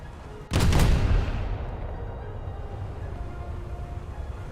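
A Russian cruiser's main guns fire in World of Warships, one loud, close booming salvo with a sharp onset that rolls off into a long rumbling decay over steady ship and ocean ambience, no talk.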